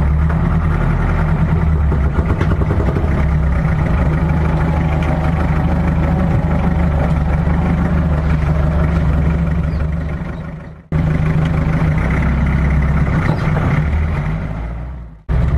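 A modified jeep fitted with an Isuzu engine runs up close, a steady loud low hum. It cuts off briefly near the end, then resumes.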